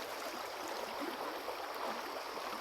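Strong floodwater rushes through a forest stream at the foot of a hill after rain, a steady broadband roar and gurgle that stays loud and unbroken throughout.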